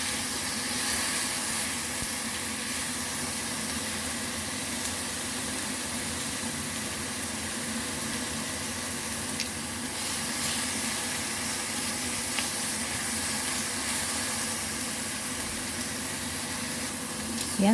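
Beef steak sizzles in a hot pan, a steady, close, dense hiss that holds at an even level for the whole stretch with no pauses or clear voices over it.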